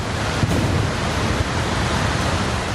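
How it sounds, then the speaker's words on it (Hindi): A flooded river in Kullu, Himachal, roars as a loud, continuous broadband rush of churning water, steady and close throughout with no voices. "नदी अपने शबाब पर है। कल कल की जगह डरावनी आवाज सुनाई"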